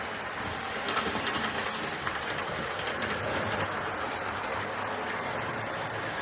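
Hornby or Bachmann GWR 4-4-0 model locomotive running round a layout, a steady continuous rolling whir with faint rail clatter, even in level throughout, with no voices.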